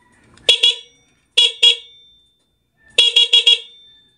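A car horn wired through a Domino Honeywell switch honks in short loud blasts: one double toot, another double toot, then a quick burst of four beeps.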